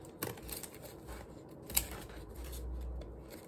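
Scissors snip through a homemade tissue box, a few quiet crisp cuts with one sharper clip near the middle, faint and close with low background rumble.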